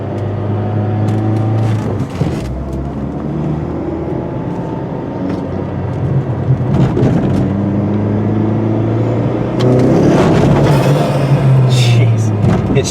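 A boosted PT Cruiser accelerates hard, its engine droning and climbing in pitch through the run with gear changes, heard from inside the cabin while someone talks over it.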